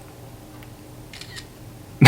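An iPhone 16 Pro Max camera shutter fires, taking a photo: a single short, crisp click at the very end after a quiet stretch of faint room noise and soft handling.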